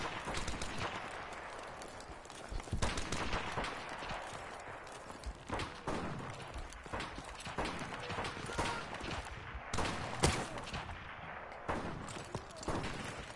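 Rapid bursts of gunfire from the Modern Warfare Remastered video game, a dense run of sharp cracks and volleys at close range, with a steady game soundscape underneath and no talk.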